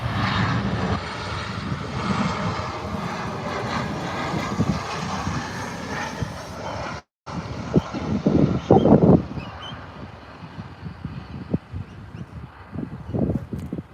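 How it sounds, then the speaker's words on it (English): A Qantas Boeing 737 arrives and lands at Adelaide Airport, its jet roar loud and steady before a brief break, then rumbling and thudding bursts as it touches down and rolls along the runway. "This aircraft here, Qantas 737 arriving now."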